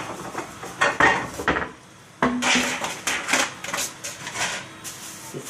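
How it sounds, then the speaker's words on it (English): Dishes and plates clatter and clink close by as a big pie dish is pulled out from among a stack, with a short pause midway before more knocking and scraping of crockery. "I'm gonna go ahead and get my big dish plate out of here."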